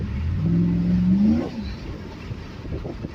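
Hemi Ram truck with a K&N cold air intake revs once, engine pitch climbing steadily for about a second before dropping back to a quieter, rougher idle, moderately loud and alone.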